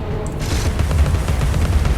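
Rapid bursts of gunfire from the pepper grinder weapon in the video game Alice: Madness Returns, a dense loud rattling fusillade filling the whole moment with no talk over it.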